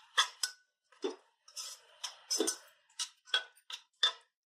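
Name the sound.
sautéing chopped tomatoes with spices in a pan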